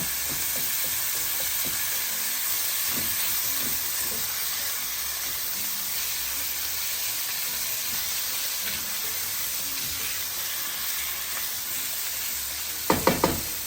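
Ground beef for beef stroganoff browns in a pan with a steady, close sizzle that runs throughout, broken by a few soft stirring scrapes and a brief clatter near the end.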